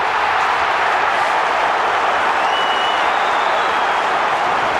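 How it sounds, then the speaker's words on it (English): A football crowd at a 1994 Australian rules preliminary final between North Melbourne and Geelong roars and yells after a goal, a loud, dense, sustained wash of cheering with no break. "The crowd yells Billy every time"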